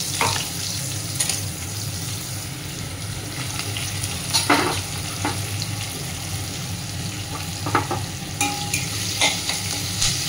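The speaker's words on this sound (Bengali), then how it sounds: "একটুখানি নাড়িয়ে চাড়িয়ে পেঁয়াজগুলো দিয়ে দেবো।" Onions, added after whole garam masala spices, sizzle steadily in a hot pan while a utensil scrapes and stirs them in occasional bursts, frying until half done for prawn malai curry, close and clear with no talking.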